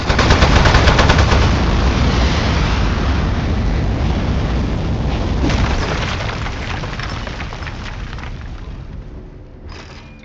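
Weapon fire in the video game Aperture Desk Job comes as a loud, continuous roaring barrage that holds steady and then slowly fades toward the end, with a short burst of noise just before it stops.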